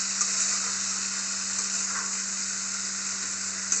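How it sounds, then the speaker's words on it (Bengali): Bitter gourd and potato curry frying and being stirred in a pan, with a steady close hiss and sizzle and faint scraping, continuous and even with no voices. "এখন সব কিছু মিক্সড করতেছি, এটাকে সুন্দরভাবে কষাতে হবে।"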